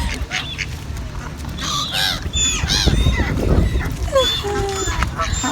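Ducks being fed by hand outdoors honk and quack loudly in a rising, overlapping cluster, with excited voices talking over them.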